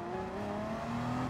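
Racing car engine in the Gran Turismo Sport video game, a steady sustained engine drone with rising harmonic tones as it accelerates, heard alone and fairly faint.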